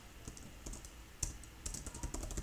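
Code typed on a computer keyboard while building a calculator with HTML, CSS and JavaScript: irregular bursts of close key clicks, quick and uneven in rhythm, with no voice.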